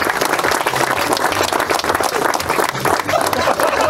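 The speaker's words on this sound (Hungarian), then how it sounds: "Még egy nagy tapsot kérünk szépen nekik." Crowd applauding the third-place team at a competition awards ceremony, loud dense clapping and cheering filling the whole stretch.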